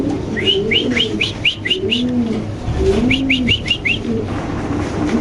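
Pigeons coo in deep, rolling calls close by, while rapid high chirps from small birds repeat in quick runs over them.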